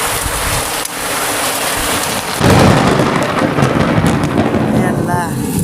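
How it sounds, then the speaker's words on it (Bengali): Heavy rain pours down steadily while thunder rumbles and cracks, the storm growing louder and denser partway through. "ভয়ানক বজ্রপাত হচ্ছে"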